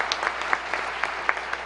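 Democratic lawmakers applauding at a State of the State address, a short burst of steady hand clapping from a crowd in a chamber.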